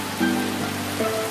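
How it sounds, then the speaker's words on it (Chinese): Rain falls steadily on a surface, a soft, even patter heard briefly and alone. "哎，下雨了，下雨了！"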